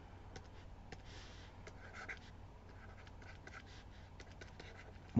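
Chalk or marker scratches out short strokes on a board during a maths lesson on periodic functions, a run of faint, quick taps and scrapes in a quiet room.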